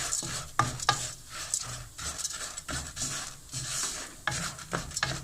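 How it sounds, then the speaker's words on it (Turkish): Flour stirred and toasted in a pan at the start of a vermicelli yogurt soup, a spoon scraping in steady, close rubbing strokes with a soft sizzle underneath and no voices. "unda kavurması lazım. Şu anda. Bir kaşık un ekledim."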